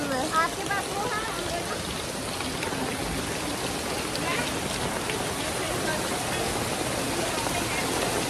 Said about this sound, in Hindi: बारिश हो रही है और देखो यहाँ स्विमिंग पूल बन गया है।